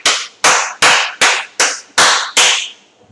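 A teacher claps hands sharply in a classroom, seven loud, evenly spaced claps close by, each ringing briefly in the room, with no talk.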